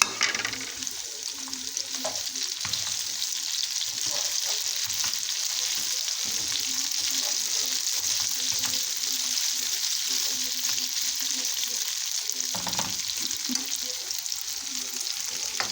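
Liver frying in a pan with parsley and onion while being stirred: a steady, close sizzle with scraping stir strokes throughout, no talking.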